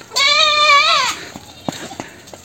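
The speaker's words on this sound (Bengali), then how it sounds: "কারণ এত চিল্লাইতেছে এই ছাগল।" A goat bleats loudly and close by for about a second, a long wavering cry, followed by faint rustling and a few soft knocks in a rural village setting.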